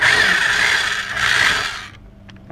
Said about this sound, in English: You just drill straight down,